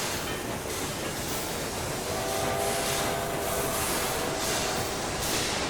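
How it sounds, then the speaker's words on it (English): Trains run along busy rail lines in the Railway Empire 2 simulation, a continuous rumbling clatter of wheels with faint squeals, steady and moderately loud without voices. "There's a lot of trains going on here though."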